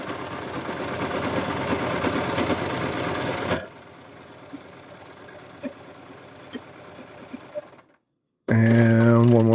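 A sewing machine stitches the seams of a Cthulhu plush, a fast steady mechanical whir that stops partway, leaving light clicks, then a brief silence before a louder tonal hum cuts in.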